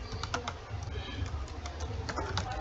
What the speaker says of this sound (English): On the replace value, you type engineering.